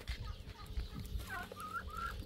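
Birds at a rural watering place make faint clucking, gobbling fowl-like calls and chirps over a low, rumbling outdoor background, with no one talking.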